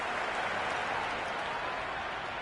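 Cricket crowd cheering and applauding a six, a dense, steady roar of clapping and excited voices filling the ground at constant loudness throughout.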